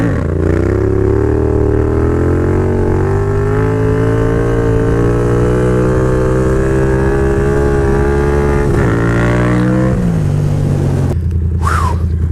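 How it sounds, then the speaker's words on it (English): A Yamaha FZ07 motorcycle engine revs loudly and steadily during wheelies, its pitch rising and holding before dropping off near the end, with a brief whine-like sweep at the close. "And then I'm gonna try a couple wheelies"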